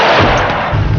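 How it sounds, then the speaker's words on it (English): A single loud, close gunshot gives a sharp broadband blast in a television crime drama and fills the whole second with a heavy, echoing boom. "Gunfire."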